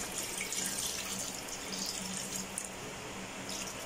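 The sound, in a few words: water being added to a pot of creamy sopas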